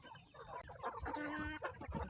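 Chickens cluck and murmur continuously, a few hens close by with soft overlapping calls and faint outdoor background noise.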